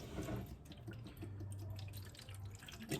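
Hydrogen peroxide pours into a container for cleaning a whitetail deer skull, a steady faint trickle and splash with occasional drips, quiet and close, running the whole time without talk.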